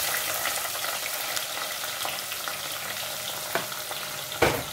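Onion fries in hot oil with cumin. The sizzle is a steady bright hiss throughout, close up, with a couple of sharper pops or utensil knocks near the end.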